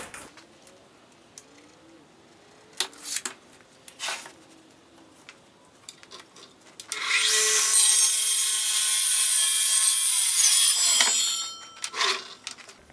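A wooden board, a 1x8 for an Adirondack chair, is trimmed to width with a saw in one sustained bright cutting burst of about four seconds, framed by scattered knocks and handling noises before and after.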